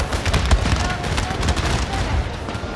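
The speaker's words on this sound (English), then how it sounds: "the Russians did get a chance to open a point-blank volley, probably killing 20 men with that volley" A musket volley fired at point-blank range by Russian infantry in a Napoleonic-era war video game, a ragged crackle of many shots over a couple of seconds, loud and close, with sparse booms under the battle din.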